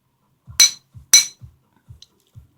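An emergency window-breaking hammer taps tempered glass several times with dull knocks, two of them landing as sharp, bright cracks, close and loud in an otherwise quiet space.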